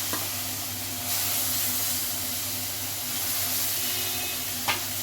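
Chopped onion and onion paste sizzle in hot oil for a Bengali lunch dish, a steady close hiss with a soft rise after the first second and a brief clink near the end, no voices.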